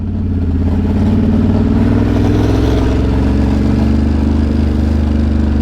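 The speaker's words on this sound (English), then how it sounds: "It's definitely making funny noises, this bike." A Ducati Monster 937 motorcycle with a noisy front sprocket runs steadily, producing a loud, continuous close engine drone with a rough, buzzing mechanical undertone and no pauses.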